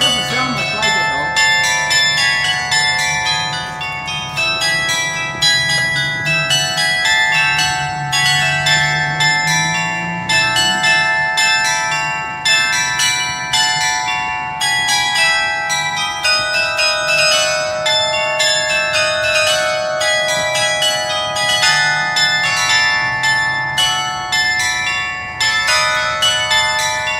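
Bells ring out a melody meant as the Rocky Horror Picture Show theme, a steady run of bright, resonant tolls under a low rumbling background near Elizabeth Quay, continuous and fairly loud throughout.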